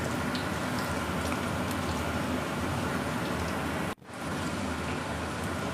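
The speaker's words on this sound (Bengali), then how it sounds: "আলুগুলো ভাজা ভাজা হয়ে আসলে সবজিগুলো দিয়ে দেবো।" Potato pieces frying in a pan give a constant soft sizzle and crackle, broken by a brief drop near the end before the sizzling resumes.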